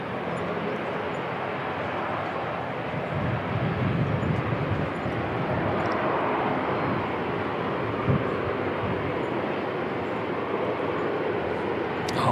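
A passenger jet at Christchurch Airport in New Zealand roars steadily for several seconds, a broad sustained engine rumble heard from a distance outdoors with no talk over it.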